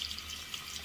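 A bathroom sink tap runs steadily during a wet shave, a soft, even hiss of flowing water throughout a brief stretch with no voices.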